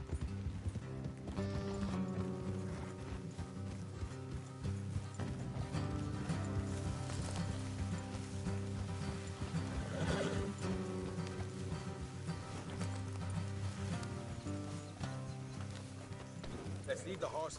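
Steady clip-clop of galloping horse hooves in the video game Red Dead Redemption 2 runs throughout under a full music bed, with occasional voices talking over it.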